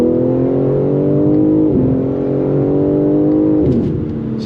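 A G80 BMW M3 Competition AWD sedan accelerates hard out of a corner. The loud engine climbs steadily in pitch, with two quick upshifts that briefly drop the revs before it pulls again.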